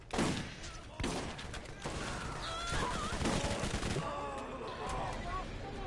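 Gunfire in the video game Borderlands comes as sharp loud cracks and rattling bursts spaced across the moment, amid chirping game effects and a continuous busy background.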